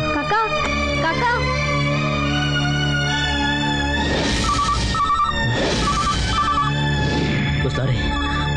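An office telephone rings unanswered, a repeated electronic ring pattern sounding in bursts over steady background music, with a voice briefly heard.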